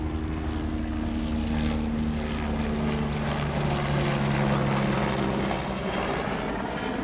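A military aircraft flies overhead with a steady, loud propeller-engine drone and a strong low tonal hum that holds for several seconds before easing slightly, with no talk over it.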